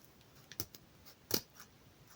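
Scissors cutting ribbon sideways for a Christmas bow, two quick, faint, crisp snips close by, about a second apart, in an otherwise quiet room.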